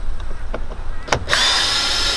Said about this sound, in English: Today I've got a power tool.